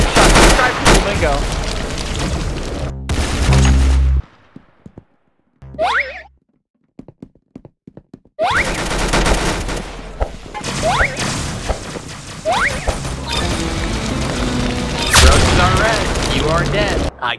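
Gunfire in the Roblox-style shooter game Arsenal, bursts of loud rapid shots and booms across the clip, broken by a short quiet gap, with game sound effects mixed in.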